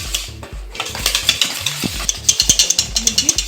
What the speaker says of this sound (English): You beat thoroughly until you have something like foam coming from this.